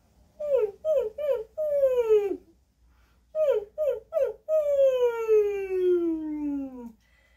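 A human voice imitates a dog whining as a vocal warmup, giving two sets of three short yelping whimpers, each set followed by a long, sliding whine. The calls are close and clear, with silence between the sets.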